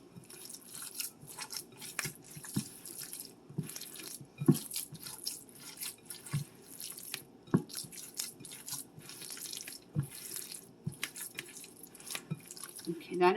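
Lasagna ingredients are mixed by hand in a kitchen, giving wet, squishy, irregular squelches and drips throughout, with bits of speech underneath.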